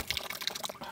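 Water splashes and trickles from a newly installed drinking water connection in a brief, faint, bubbly burst of flow.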